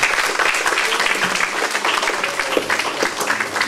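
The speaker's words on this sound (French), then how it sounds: "que je vous demande d'applaudir, s'il vous plaît." An audience at an evening francophone literary and cultural gathering breaks into loud, dense applause, a continuous wash of many clapping hands held at an even level throughout.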